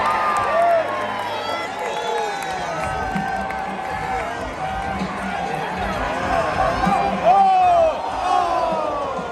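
Crowd at a football game cheering as cadets parachute down, a mass of whoops and shouts with people talking close by amid the roar.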